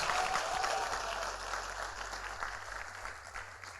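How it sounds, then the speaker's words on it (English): Church congregation clapping along during a sermon, a steady dense wash of hands heard from a distance in a large room, with a low hum underneath and no talk over it. "Come on and clap your hands."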